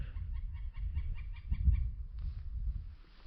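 Soft, rapid clucking from a few wild turkey hens in a field nearby, in short repeated bursts over a low background rumble.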